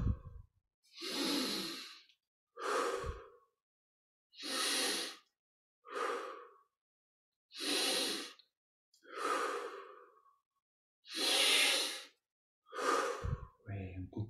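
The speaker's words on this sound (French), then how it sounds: "on respire profondément." Slow, deep breaths during guided yoga alternate long inhales and exhales with short silences between, close and breathy, about ten full breaths.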